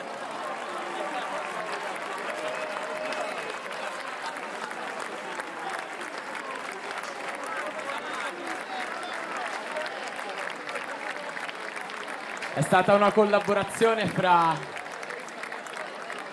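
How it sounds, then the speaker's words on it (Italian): Concert audience at a live show in Ascoli Piceno applauds the children, a sustained crowd clapping under an amplified voice speaking in Italian, with a louder burst of singing or shouting near the end. "si meritano l'applauso più grande del mondo"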